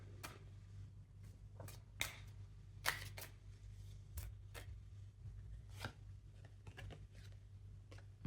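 Tarot cards shuffle and snap at close range in a quiet room, a string of sharp, irregular clicks and riffles with no talking.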